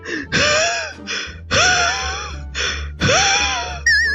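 Heavy, gasping breaths from someone who has just run, in loud rhythmic pulls about every second and a half, each with a rising voiced whine, close and alone.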